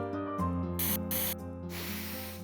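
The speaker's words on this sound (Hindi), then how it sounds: "angel spray" A perfume bottle labelled Angel Spray gives a few short, crisp hissing sprays in quick succession, then one longer spray, heard close over soft background music.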